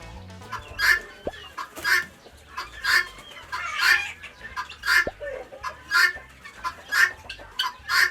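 A bantam hen clucks close by in an even, repeated rhythm, about a dozen short clucks over several seconds with soft background noise between them.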